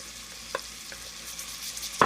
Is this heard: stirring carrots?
yes